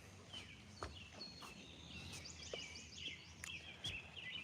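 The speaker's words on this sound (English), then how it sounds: "It's just, you can hear the birds." Faint bird chirps and short tweets by a river, scattered high calls over a low outdoor background rumble, distant and quiet.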